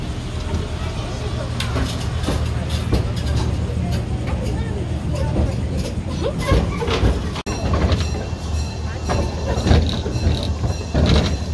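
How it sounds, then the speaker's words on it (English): A zoo train rumbles and clatters along its tracks with a steady mechanical rattle, while people talk and chatter nearby. "All right, the train's moving"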